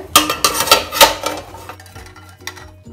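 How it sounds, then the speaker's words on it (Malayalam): A metal stand set into a steamer pot in a home kitchen: several sharp ringing clanks and scrapes of metal on metal in the first second, then fainter clinks and taps, close and without talk. "ഞാനത് സ്റ്റീമറിലേക്ക് അതിൻ്റെ സ്റ്റാൻഡും കൂടി വെക്കുന്നുണ്ട്"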